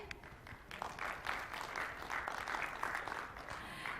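Audience applause at a Build conference session fills the room as a steady, dense wash of clapping from many hands, holding at an even level from start to finish.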